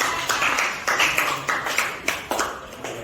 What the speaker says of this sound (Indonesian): Tepuk tangan untuk pertanyaan.